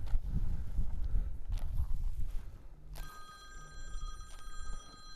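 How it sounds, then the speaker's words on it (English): An electronic phone ring of steady tones starts partway through, sounding over shuffling and low rumbling movement in the background. "My phone's ringing."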